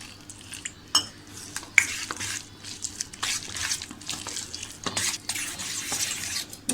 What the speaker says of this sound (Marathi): आता आपलं हे संपूर्ण मिश्रण छानपैकी मी एकजीव करून घेतलं आहे